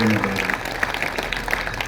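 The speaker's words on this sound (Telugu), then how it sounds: "ఫాదర్ గారికి అందరం గట్టిగా చప్పట్లు కొడుతూ" An audience applauds a priest after a Palm Sunday mass; dense, steady clapping fills the room, with a voice briefly heard at the start.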